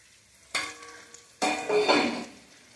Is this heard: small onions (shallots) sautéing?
yes